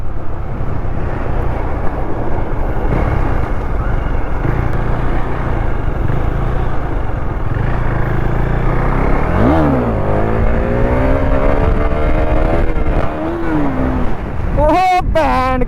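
A KTM Duke 390 motorcycle doing wheelies, its engine droning nearby, then revving hard in rising, sweeping bursts as the front lifts, with a final sharp rev at the end.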